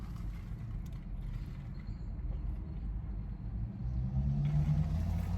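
Car engine running after a repair, a low steady rumble close by that swells slightly louder toward the end, with no talk over it.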